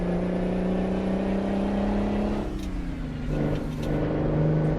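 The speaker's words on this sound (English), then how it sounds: "I'm trying to listen to the engine instead of just staring at the RPMs." A truck engine in American Truck Simulator hums steadily at constant revs, drops briefly during a gear change, then climbs again in a continuous, close drone.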